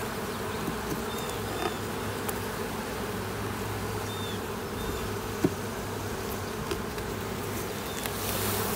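Honeybees buzz steadily throughout a hive inspection, forming a dense, continuous drone close by with a few individual bees passing near and occasional faint handling clicks.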